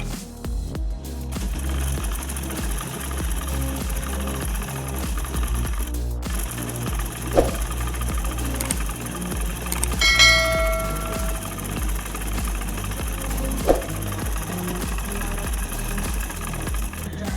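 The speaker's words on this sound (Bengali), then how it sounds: "এখন এই যে সেলাইয়ের কিনারে আরও একটা সেলাই দিয়ে নিব" A sewing machine runs continuously, loud and dense, adding a line of stitching along a fabric edge while making a Naira-style dress, with clanging tones and other sounds mixed in.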